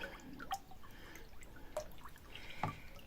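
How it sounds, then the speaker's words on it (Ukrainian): Salt brine for cheese is stirred in a container, giving soft liquid swishes and a few distinct drips and clinks of the utensil, quiet and close, with no talking. "Тепер це все перемішуємо."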